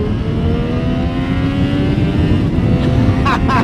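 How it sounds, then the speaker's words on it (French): A loud Triumph Street Triple 765 RS (2023) motorcycle engine rumbles continuously and rises steadily in pitch as it revs, heard up close with a brief voice near the end. "moteur qui délivre vraiment une bande son phénoménale"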